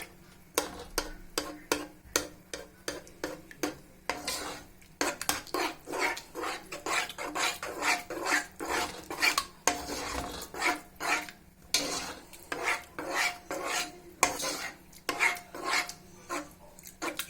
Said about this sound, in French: Je mélange et j'attends que les œufs soient cuits.